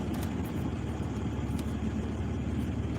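A diesel pickup truck engine idles close by, a steady low rumble with a constant drone that holds evenly throughout, no talking over it.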